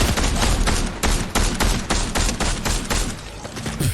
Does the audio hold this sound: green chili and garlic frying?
no